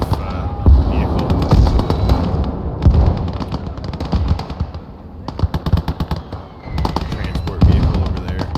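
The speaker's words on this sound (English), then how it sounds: "It's got that SU-100 taking pot shots." Sharp cannon shots from an SU-100 tank destroyer in the Gates of Hell war game, mixed into a dense, loud battlefield of rapid gunfire and explosions that pulses in bursts over about eight seconds.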